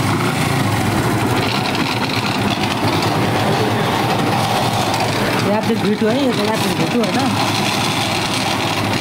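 A Yamaha FZ V2 motorcycle with a magneto fault runs with an abnormal noise, a loud, steady, rough engine drone throughout, and someone speaks briefly over it near the end.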